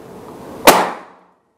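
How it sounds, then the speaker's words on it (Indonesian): A Ruger Monel Black Army PCP air rifle charged to 4000 psi fires a single shot at a target 20 metres away, giving one sharp, loud crack that fades quickly into silence. "Oke, langsung ke tembakan pertama."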